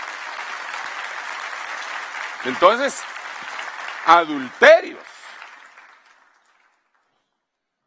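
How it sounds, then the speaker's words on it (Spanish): A congregation applauds at a church sermon, a steady wash of clapping running for about six seconds beneath a man's preaching before fading out. "Denle un aplauso al Rey bendito."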